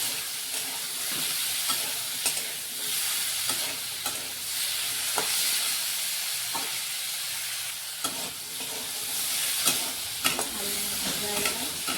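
Soybean chunks and potatoes frying in oil in a kadai give a steady, close sizzle and hiss. Occasional clinks and scrapes of stirring sound over it, and no one talks.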